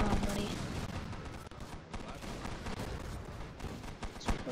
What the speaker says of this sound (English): We are under fire